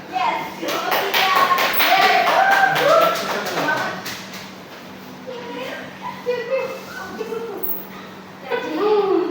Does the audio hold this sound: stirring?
no